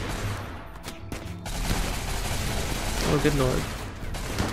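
Gunfire in a RimWorld battle between colonist soldiers and raiders, a rapid volley of sharp shots that continues under steady background din while a man exclaims in alarm.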